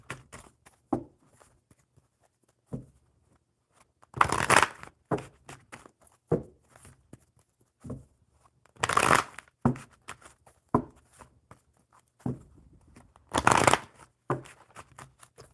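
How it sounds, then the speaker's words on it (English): A deck of cards being riffle-shuffled up close, three quick bursts of fluttering cards separated by softer taps and handling noises. "I'm going to shuffle the Enchanted Map deck for you"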